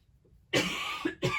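A single close, harsh cough followed by a second shorter cough, loud and abrupt after a moment of quiet.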